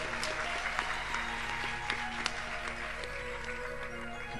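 A crowd at a religious discourse in Lavarpur claps together in dense, sustained applause. It sounds moderately distant and steady throughout, with no voices over it.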